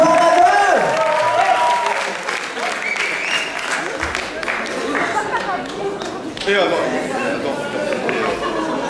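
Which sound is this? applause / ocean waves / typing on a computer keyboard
applause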